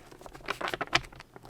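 Tarot cards shuffled by hand in a short burst of quick, close papery riffling and patter lasting about a second and a half.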